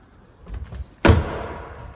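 The tailgate of a Mini Cooper opens with a soft click and rustle, then a sharp, loud thud as it swings up, followed by a brief fading resonance, heard close with no talking.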